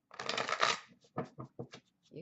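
A deck of tarot cards is shuffled by hand: one long riffling burst, then several short, crisp shuffles in quick succession, close and clear with no talk.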